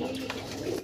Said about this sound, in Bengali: ইয়েলো কালারের ডাউকা কবুতর দেখতেছি